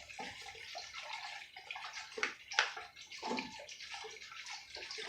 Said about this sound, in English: I'm just going to whisk this in just so it don't clump up